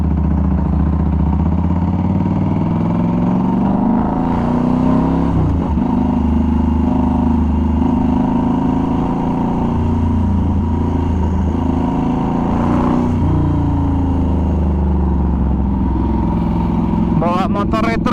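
A hand-built British retro Norton Commando 961 SF MK II rumbles steadily while ridden, its low engine drone and wind noise continuous and close throughout, with a brief clatter near the end.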